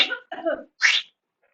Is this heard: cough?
yes